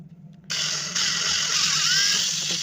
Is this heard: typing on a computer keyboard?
no